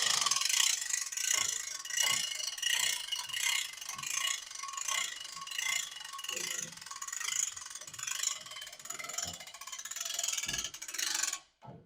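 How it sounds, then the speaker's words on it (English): A ratchet strap is cranked tight on a heavy-duty lifting package for removing a semi truck hood. Repeated sharp metallic clicking comes in bursts with short pauses and runs close and clear throughout. "I'm going to tighten the strap up just a little bit"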